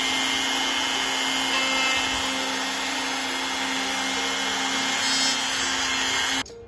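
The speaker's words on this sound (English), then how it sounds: "this jig will allow us to route out just enough material that then that hinge will sit perfectly in there" A router with a jig cuts a hinge recess into a wooden interior door, giving a loud, steady whining drone that holds for several seconds and then cuts off abruptly as the tool stops.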